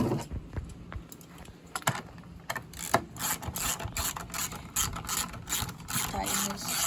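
A bolt being tightened by hand on a 2017 Honda Rubicon 500 ATV during a fuel pump replacement, heard as a run of close metallic clicks, ratcheting and tool clatter with some faint background noise.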